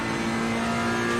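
GT3 race car engines in Assetto Corsa Competizione, including a Ferrari 488, a steady loud high-revving drone with a sharp tonal whine held throughout, with no talk.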